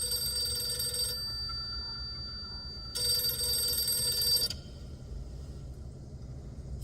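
Telephone bell ringing in two bursts, a first ring fading after about a second and a louder second ring a couple of seconds later, bright and electronic over quiet room tone with no talk.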